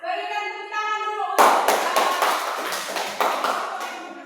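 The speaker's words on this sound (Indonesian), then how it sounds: "Berikan tepuk tangan dulu." After a brief spoken line, an audience in a teaching session breaks into close, lively hand clapping for a presenter, which continues steadily to the end.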